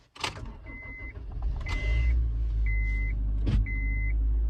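A Honda Jazz in snow cranks and catches, then settles into a steady low idle as it warms up. A few brief whirring or clicking interior sounds come and go over the engine hum.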